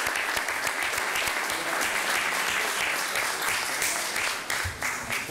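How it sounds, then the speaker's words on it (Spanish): Loud, sustained applause from a crowd at a European polo championship team presentation, steady clapping filling the space for several seconds before tapering slightly at the end. "Un aplauso fuerte."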